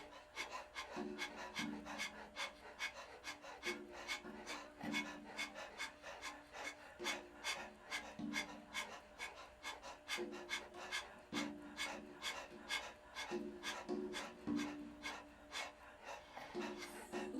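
A person pants rapidly and rhythmically from the upper chest during a yoga breathing exercise, imitating a dog, with short quick breaths repeating steadily throughout, close and fairly loud.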